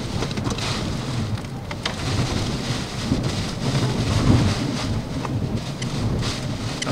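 Heavy rain pours down while strong derecho winds in Iowa roar across the microphone in a dense, constant wash of noise.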